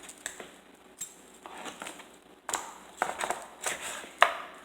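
A sharp knife works through a raw chicken being butchered, producing scattered close cutting and scraping taps that grow busier and louder toward the end, with no talk.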